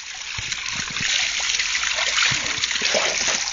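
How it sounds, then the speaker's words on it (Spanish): Water flowing and trickling steadily at close range, a continuous splashing wash with small irregular spatters, heard in an outdoor survival setting. "Ahí hay agua."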